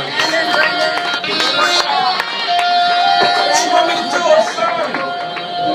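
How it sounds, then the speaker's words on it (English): A comedy club audience clapping and cheering as a comedian comes on stage, a dense, continuous wash of applause with whoops and crowd noise throughout. "You guys are actually clapping like someone good's coming up here."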